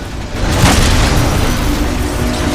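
Player firing a weapon in the video game Titanfall 2, a single heavy booming blast that swells quickly and rolls on as a dense, sustained rumble.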